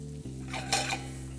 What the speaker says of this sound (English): that's probably enough time for the vegetables to cook within the butter